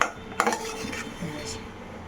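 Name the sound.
stirring sweet filling in a pan on gas stove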